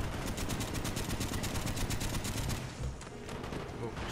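Rapid gunfire in the PC multiplayer match of the video game Call of Duty: Black Ops 1, a dense, fast volley of loud shots over roughly two and a half seconds, then quieter scattered fire and game ambience.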